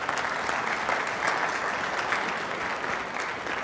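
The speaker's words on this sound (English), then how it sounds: "Let's give them another round of applause." A city council meeting audience claps in a continuous round of applause, even and fairly quiet, with no voices over it.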